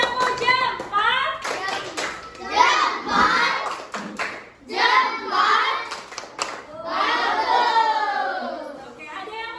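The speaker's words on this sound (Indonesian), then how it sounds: "Oke, tepuk tangan untuk kelompok akhir." A group of schoolchildren claps for a classmate group in an Indonesian classroom. The bursts of clapping come in uneven waves, mixed with children's voices chattering and calling out throughout.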